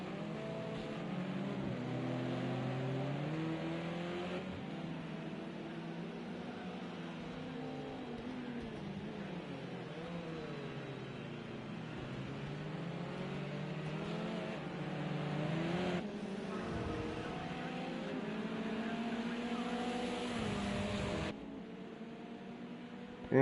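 Touring cars race in a video game, their engines droning continuously at close range with pitch rising and falling through gear changes and corners, and no voices over them.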